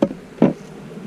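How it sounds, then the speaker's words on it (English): Honeybees from different hives buzz while nucs are being made, a short close burst of droning wings rising briefly over a faint background hum. "These bees are different bees from different hives."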